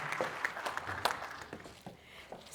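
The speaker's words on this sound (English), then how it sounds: "Let's give them a round of applause." Applause from an audience, a steady patter of many hands clapping at moderate volume that thins out toward the end.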